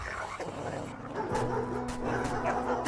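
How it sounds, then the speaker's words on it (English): Dogs in the Runaway 2 adventure game bark and yip a few times at moderate distance, mixed with a soft voice and background ambience. "Don't be afraid of the dogs."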